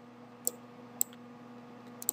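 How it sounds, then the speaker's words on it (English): Computer mouse clicks for a double click on a Windows PC, three or four sharp, quiet taps spaced apart over faint background hum. "Double click."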